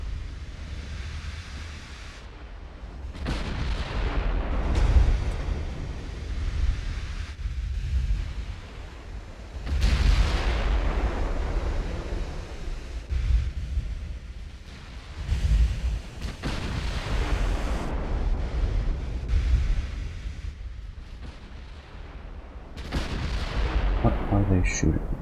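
Naval guns boom repeatedly in a battle in Ultimate Admiral: Dreadnoughts, heavy low blasts rolling out every few seconds over a continuous roar like surf, with a faint voice now and then.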